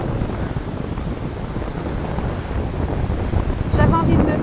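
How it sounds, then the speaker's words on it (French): Wind gusts and rough, churning sea waves break at a beach with surfers out, a steady loud wash and rumble blowing across the microphone, with a voice faintly present near the end. "du vent et la mer elle est démontée"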